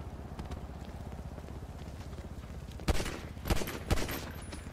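Gunfire in a GTA roleplay game over steady background noise, a few sharp loud shots, a short burst of three or four cracks near the end.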